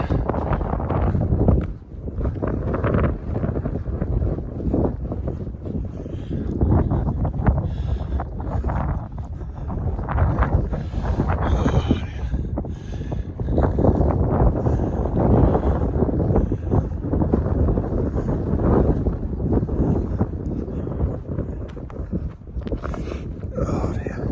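Gusty wind buffets the microphone on a hillside walk between Marsden and Greenfield, a loud, uneven rushing that swells and eases in waves for the whole stretch.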